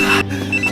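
A telephone rings with a loud, close electronic tone that breaks off briefly and then resumes.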